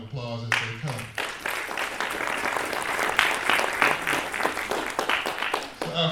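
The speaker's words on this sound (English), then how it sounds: "So I want you to give them a warm round of applause as they come." A warm round of audience applause in a college chapel, many hands clapping in a steady dense patter for several seconds, with a voice heard briefly at the start and end.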